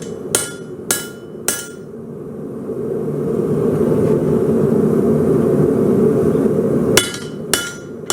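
Heavy hammer blows on hot metal during forging of an old butcher's block: three sharp ringing strikes, a steady rumbling pause, then three more strikes, close and loud.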